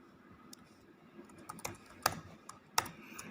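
Sparse computer keyboard keystrokes tap out code for an Arduino blinking LED project, a few isolated clicks building to a couple of sharper, louder presses, quiet and close with no talking.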